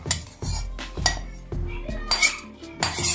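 Metal utensils scrape and clink against a pan and dish as spiced kachori filling is scooped out, several sharp knocks and rattles in an uneven rhythm, close and fairly loud with no talking.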